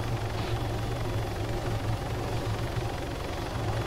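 A helicopter in a military video game drones with a low, steady rotor thump, loud and continuous throughout, with no talk over it.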